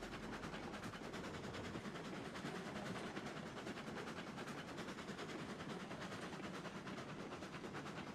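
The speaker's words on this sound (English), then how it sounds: "I'm also really loving watching our train snake around these curves" A train in the video game Satisfactory running along curving track, producing a dense, steady rumble with faint rhythmic clatter and no breaks, constant in level and free of speech.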